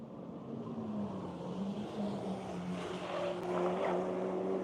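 Bridgestone-sponsored Honda Civic race car climbing a hill on a track, a steady engine drone that grows slightly louder and rises in pitch as it approaches, with no talk over it.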